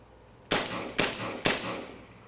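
Three sharp gunshots ring out at an indoor shooting range, evenly spaced about half a second apart, each loud crack trailing into a short echo.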